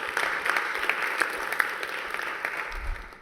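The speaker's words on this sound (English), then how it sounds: "Big round of applause for Esther." An audience at a UNESCO conference panel claps in a brief, dense burst of applause that holds steady, then tapers off toward the end.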